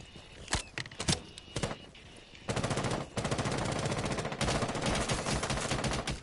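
Video game gunfire in a Rainbow match, scattered single shots at first, then long sustained bursts of rapid automatic fire, loud and dense, with no talk over it.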